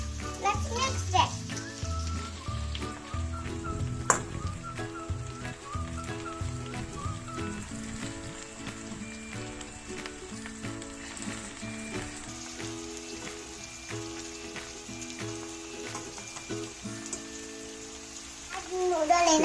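Mixed vegetables frying in oil in a pan for hakka noodles, a soft continuous sizzle with occasional clinks, under a voice talking throughout.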